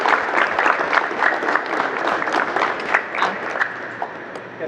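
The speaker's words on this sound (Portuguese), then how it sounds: "para quem gostou aí, palmas para a Lu." Audience applause at a Brazilian talk event, clearly separate claps that pulse and swell unevenly, fairly loud and close, with no speech over them.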